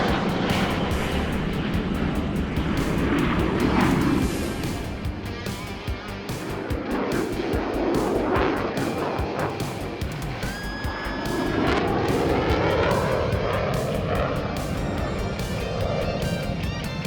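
A fighter jet in flight gives a loud, sustained engine roar heard from the cockpit. The roar swells and eases as the jet maneuvers, with some warbling tonal sweeps.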